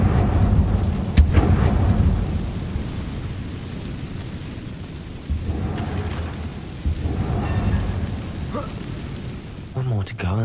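Confringo blasting spell going off in Hogwarts Legacy: a sharp crack early on, then a continuous low rumbling roar with further muffled booms rolling through, loud and close throughout.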